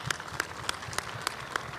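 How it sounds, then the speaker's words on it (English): An audience claps in warm, steady applause at a WRC Acropolis Rally Greece pre-event show. The crowd sounds moderately near, with scattered louder claps standing out. "That deserves a round of applause."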